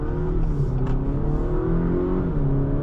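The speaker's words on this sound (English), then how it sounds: "And look at that acceleration," A 2026 Acura RDX Tech accelerates in sport mode, its engine tone rising in a strong, continuous, loud drone heard from inside the cabin.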